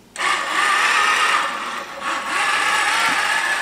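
A Tin Lizzie quilting machine runs empty on a test run with no quilt loaded, a steady close mechanical whir that dips briefly midway before resuming at full level.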